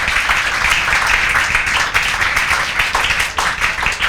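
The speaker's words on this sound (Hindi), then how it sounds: "भव्या कटियार के लिए तालियां हो जाए, बजाओ।" Classroom applause for a student during a definite integration maths lesson: dense, continuous clapping from many hands fills the room, steady and fairly loud for the whole stretch with no talk over it.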